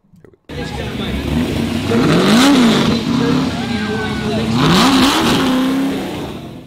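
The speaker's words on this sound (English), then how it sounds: "I want to hear him rev it for you guys" A Ford Falcon Cobra V8 engine revs loudly twice, pitch climbing and falling in swells, heard close with a roaring exhaust note and some voices mixed in.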